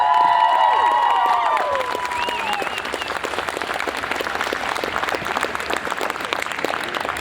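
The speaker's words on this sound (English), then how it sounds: "A big round of applause, Mr. Manu Bennett!" Audience at Christchurch Armageddon 2015 bursts into loud, sustained applause for actor Manu Bennett, with cheering and whistles rising over steady clapping in the opening seconds before the clapping carries on alone.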